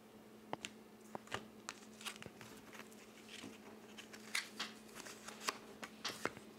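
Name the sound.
tarot cards being shuffled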